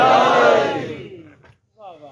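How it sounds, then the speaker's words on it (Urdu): A crowd at a religious gathering roars back a chanted slogan in one loud, sustained shout that swells and then fades, followed after a short pause by a quieter voiced response. "نعرے تکبیر، نعرے رسالت، نعرے خلافت، نعرے حیدری"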